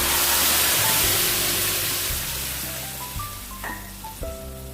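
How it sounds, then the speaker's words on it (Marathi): Garlic tempering for toor dal amti tipped into a hot pan gives a loud, dense sizzle that starts strong and gradually fades, with a few faint tonal background sounds toward the end. "आता आपला हा लसूण छान गुलाबी आहे, या स्टेजला आपण फोडणीला टाकून घेऊया"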